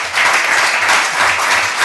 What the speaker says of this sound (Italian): se vogliamo fargli un applauso